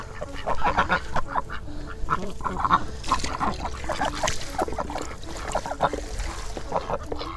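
Ducks by a freshly refilled garden pond quack and honk repeatedly in a busy, close chorus of overlapping calls, continuing throughout.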